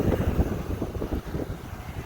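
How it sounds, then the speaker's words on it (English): Gusty morning wind on a New York city walk buffets the microphone with a low, rumbling roar that rises and falls unevenly throughout. "It is windy this morning in New York."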